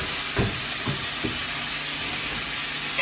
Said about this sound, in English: You have to keep frying this until it's golden brown color.